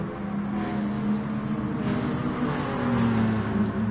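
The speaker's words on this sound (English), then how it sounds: "Also beginning to hear the sound of engines revving a little higher." Several racing car engines from Gran Turismo Sport, Gr.4 cars at Suzuka, hum and rev steadily in the near foreground, with a sustained drone that climbs slightly in pitch and swells louder toward the end.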